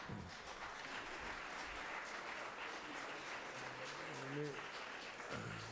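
Steady applause from the gallery in a state Senate chamber, a dense patter of clapping that continues throughout, with a voice briefly audible beneath it near the end.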